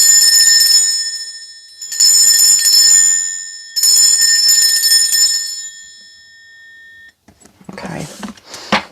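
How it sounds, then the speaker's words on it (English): A ringing bell used to cleanse a space sounds three times in long shimmering tones that fade between strikes, loud and close, followed by a brief rustle at the end. "I am going to be ringing a bell."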